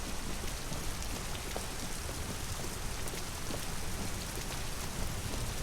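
Steady rain from the video game Detroit: Become Human, a dense, even hiss of falling drops that holds at one level throughout with no voices over it.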